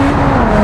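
A brief, loud, steady engine drone from a BMW driving fast in BeamNG.drive, heard alone.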